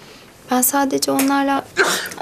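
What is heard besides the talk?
sneeze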